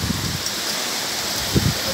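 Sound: heavy rain pouring in Eskişehir

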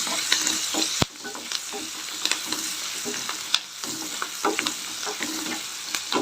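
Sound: stirring turmeric into frying gravy in pan

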